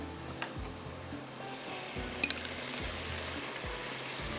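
Butter sizzling in a pan for Kashmiri chicken masala alongside rice and dried fruits, a steady soft frying hiss broken by a few low stirring thumps and scrapes, close and alone.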